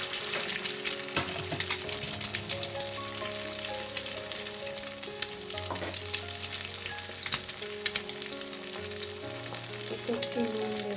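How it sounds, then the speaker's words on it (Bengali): An egg cracked into hot oil in a wok sizzles loudly and steadily nearby, with a faint background tone and no talking. "একটা ডিম ফাটিয়ে দিলাম।"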